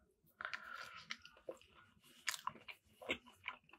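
Close-up crunching and chewing of crisp fries during a mukbang meal, with irregular bites and munches in quick bursts and quiet pauses between, intimate and near.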